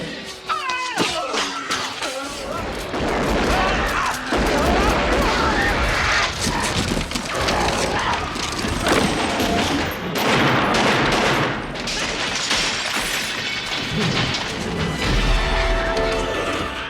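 Gunfire at creatures in the 1990 film Tremors crackles in dense, rapid bursts mixed with booms and chaotic action noise, loud and continuous over most of the scene.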